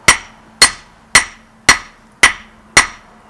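Hammer blows ring on a viking-style anvil while forging a viking flint striker from coke-fire-heated steel, seven sharp evenly spaced strikes about half a second apart, each bright and ringing with a quick decay.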